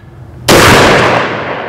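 A single very loud, close gunshot comes from a powerful survival pistol. A sharp crack is followed by a long booming decay after a quiet lead-in.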